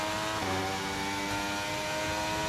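Formula 1 car engine in the F1 23 racing game, a loud sustained high-revving whine with stacked harmonics and a brief dip as the revs shift.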